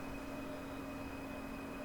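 A DB BR 401 ICE 1 train departs Aachen in Train Sim World with a steady, even electric hum and a high whine, moderately faint and unchanging throughout, with no talking.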